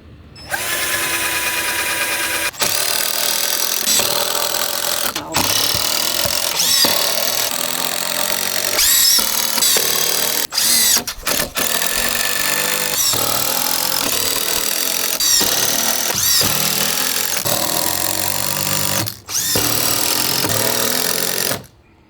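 A power drill drives screws into the wood of a raised garden bed with a loud, continuous whirring grind, broken now and then by brief pauses between screws.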